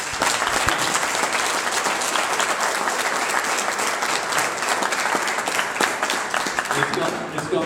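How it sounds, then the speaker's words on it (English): A crowd at a community gathering after tornado damage applauds the local fire department, with loud, dense, sustained clapping that fills the room from start to finish. "Everybody needs to applaud these guys."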